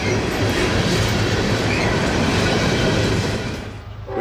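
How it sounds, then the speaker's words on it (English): Train passing on the railway near Front Royal, Virginia, loud and close with rumbling wheels and rhythmic rail clatter, fading slightly as it moves away at the end. "Chase this train back up the B-line."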